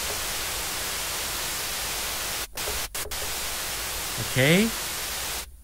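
Steady white noise from the Logic Pro Alchemy synth hisses continuously, briefly cutting out a few times, with a short spoken word over it before stopping abruptly.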